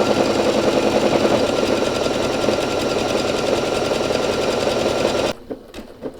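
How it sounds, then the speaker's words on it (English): A home sewing machine stitches a buttonhole automatically during a cord-organizer scrap project, running as a steady, fast mechanical whir for about five seconds and then stopping abruptly, leaving a few faint handling clicks. "my machine just pressed the button and it does it on its own"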